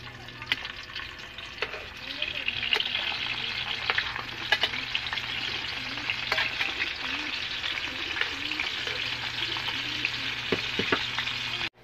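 Hotdogs fry in hot oil with a dense, continuous sizzle and bubbling crackle, punctuated by sharper spits and pops, while faint voices murmur in the background.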